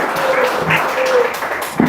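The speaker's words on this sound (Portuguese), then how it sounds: "Palmas para Ele, oh glória!" Applause from a church congregation during a worship service, a steady wash of clapping that holds for about two seconds, with brief voices and shouts rising over it.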